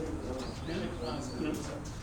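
Racing pigeons coo softly and repeatedly in a loft, their low burbling calls layered with a few faint chirps under close, steady talk.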